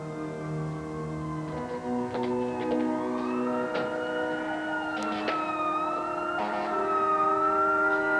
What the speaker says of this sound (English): It's just the sirens. They always get to me.